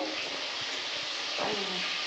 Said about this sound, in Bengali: মাছটা একটু বেশি ফুটছে